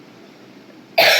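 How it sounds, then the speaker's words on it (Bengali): One sharp, loud cough comes near the end, after a second of quiet room hiss, from a person whose cold has turned into a cough. "সর্দিটা একদম কাশিতে কনভার্ট হয়ে গেছে"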